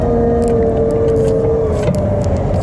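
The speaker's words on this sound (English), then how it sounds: "Quite a whiny transmission." A New Holland T8 435 track tractor pulling a Heva 6-metre disc roller, its transmission giving a steady high whine over a constant engine rumble, close and unbroken.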